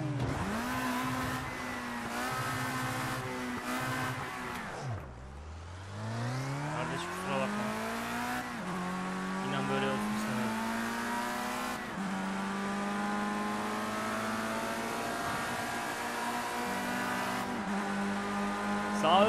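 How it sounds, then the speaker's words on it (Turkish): Race car tyres spin and squeal on a track during a sprint practice session, a loud sustained engine drone with rising and falling pitch sweeps, steady and close throughout. "spin atıyor, spin"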